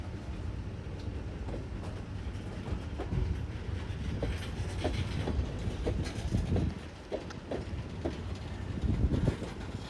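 A long Indiana Rail Road freight train rolls slowly through a curve, its cars giving a steady low rumble with rhythmic wheel clicks and clunks that swell and ease throughout, with no talk.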